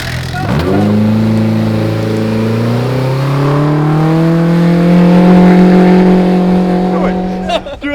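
A Baja 1000 UTV race vehicle arrives close by, its engine revving loudly and steadily climbing in pitch before cutting off, with voices talking over it.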